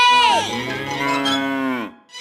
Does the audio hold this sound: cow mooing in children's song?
yes